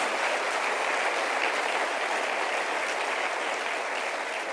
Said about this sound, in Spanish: Eso merece un aplauso para el Señor